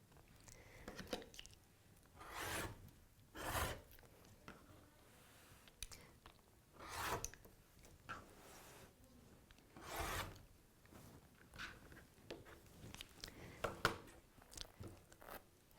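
Scissors cut through t-shirt fabric in a series of separate close, rasping snips with quiet pauses between them.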